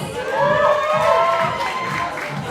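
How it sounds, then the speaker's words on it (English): Loud, sustained crowd cheering with high shouts and whoops fills the arena at a men's open semifinal of the 2023 Boulder Nationals in the Philippines, a bouldering climbing competition, with little distinct clapping. "Round of applause,"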